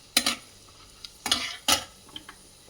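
A spoon stirs chana dal and peanuts frying in a pan, giving three or four distinct scraping sweeps with soft sizzling between them, close and clear, with no voices.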